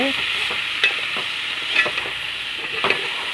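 Curry leaves and coriander greens sauté in a pan, with a steady close frying sizzle and a few sharp stirring scrapes at intervals, no voices.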